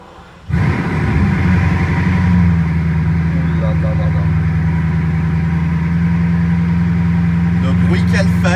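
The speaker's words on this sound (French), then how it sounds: "Et attention, c'est parti, le frein. Et on allume la Chiron." A Bugatti Chiron Sport finished in matte black exposed carbon fires up indoors in a showroom, a sudden loud catch followed by a deep, steady, rumbling idle that holds close and strong throughout.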